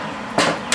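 Two sharp hammer blows on metal while building a motorized bike, close by and spaced apart, each a bright ringing clank above a quiet background.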